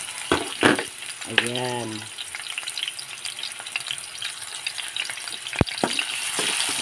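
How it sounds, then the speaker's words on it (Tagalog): Garlic and onion sauté in hot cooking oil for a simple ampalaya with egg dish, giving a steady close sizzle with occasional stirring clinks and a brief short spoken word over it. "maglagay lang tayo ng mantika para magisa natin ang ating bawang at saka sibuyas"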